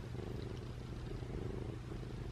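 A cat purring up close, a steady low rumbling vibration that continues evenly throughout at a quiet level, with no talking.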